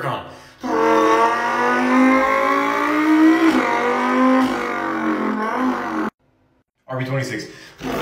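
A person in a shower mimics a Lamborghini Huracán engine with their mouth, voicing a long rising rev, a shift and more climbing revs before a short pause and another burst.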